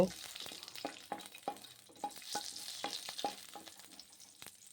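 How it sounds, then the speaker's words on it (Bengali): Bay leaves, cinnamon sticks and cardamom pods fry in hot oil while a spoon stirs them, giving a faint, steady sizzle broken by soft rhythmic scraping taps against the pan. "ফোড়ন হিসাবে আমি নেব দু তিন পিস তেজপাতা আর নেব দারচিনি আর দু পিস এলাচ দিয়ে একটু হালকা হাতে নেড়ে নেব"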